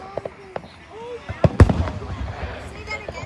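Fourth of July fireworks burst outdoors, with several sharp pops and crackles and one loud booming blast in the middle, while a person talks over the explosions.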